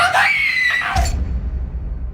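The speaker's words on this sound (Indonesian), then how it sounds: "Wah, dia ngapain teriak kayak gitu?" A girl lets out a loud, high, sustained scream to disrupt a high school play. The scream cuts off after about a second into rumbling room noise and faint murmuring.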